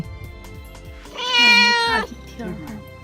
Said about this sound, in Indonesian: Kucing muka jutek lagi apa nih?